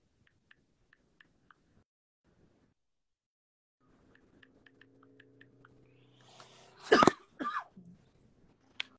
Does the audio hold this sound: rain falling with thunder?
no